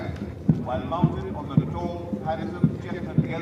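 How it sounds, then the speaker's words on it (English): Horses of a cadet cavalry contingent parade past a reviewing dais, hooves striking in a steady, evenly spaced clip-clop of about five beats, moderately near, beneath a continuous murmur of voices and background noise. "So we see 5 horsemen marching in front of the dais."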